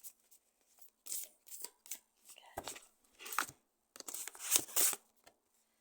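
Oracle cards being shuffled for a daily reading: soft papery riffles and slides come in uneven bursts, close and quiet, with faint rustling between them.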